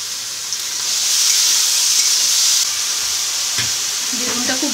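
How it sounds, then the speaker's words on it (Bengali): Salted, turmeric-coated brinjal slices sizzle in hot oil in a pan, a loud steady hiss that dips briefly, followed by a few clinks and scrapes of a utensil near the end. "এই বেগুনগুলো এবার প্রথমে আমি ভেজে নিচ্ছি।"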